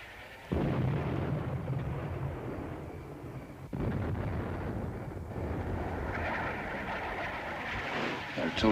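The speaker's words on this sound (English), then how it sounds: "Artillery's ours, and there's no doubt about it." Sustained, loud battlefield rumble of artillery fire and explosions in a 1971 war drama about a bridge battle, with a sharp renewed burst partway through and a voice speaking over the din.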